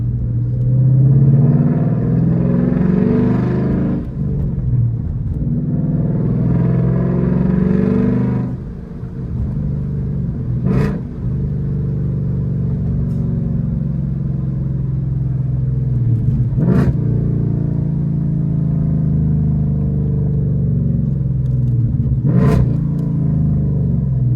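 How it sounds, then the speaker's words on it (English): A Ford Mustang GT with a six-speed manual rumbles loudly from inside the cabin, with engine revs rising and falling through downshifts and a few sharp clicks from the shifter, and no talking. "Downshifts are a lot more crispy than my 10-speed."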